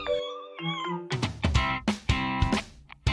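A cat meows repeatedly, close and loud, in a series of short tonal calls of varying pitch over a faint background tone.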